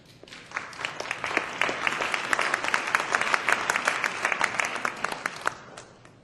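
An audience claps continuously at a campaign announcement speech, a dense, moderately loud wash of applause that builds and then fades slightly.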